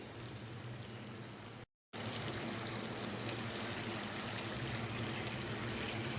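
Chicken drumsticks go into yogurt masala frying in a pan, giving a continuous close sizzle and bubbling broken by a brief silent gap, with no talking.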